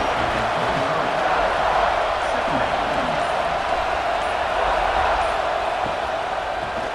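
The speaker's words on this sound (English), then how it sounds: "And here comes the noise. This crowd is trying to inspire this defense to make a big red zone stop." A big stadium crowd at a college football game between Texas and Georgia keeps up a dense, steady roar that rises slightly. A commentator talks over the noise throughout.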